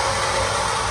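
Chevrolet Camaro engine and exhaust running steadily at a low, even idle, a constant broad rumble with no revving, loud and close.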